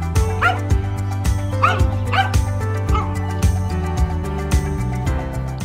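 Small dogs yap, whimper and bark in repeated bursts at a lakeside house by a reservoir, fairly close, over a steady low background hum.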